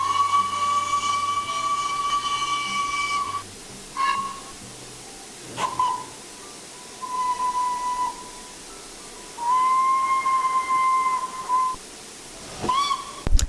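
A steam locomotive whistle in a train simulator game, on a Class A1 Great Northern locomotive, blows in several long and short blasts, steady and tonal, over a constant low background hiss.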